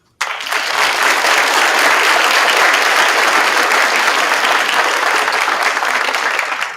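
Sustained audience applause at a National Pan-Hellenic Council scholarship program, a dense, steady wash of clapping that starts abruptly and holds loud and even throughout with no voices over it.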